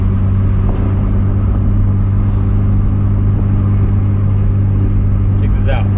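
Exhaust of a Mitsubishi Evo with its muffler deleted drones loudly and steadily up close, a constant deep rumble with little change across the stretch.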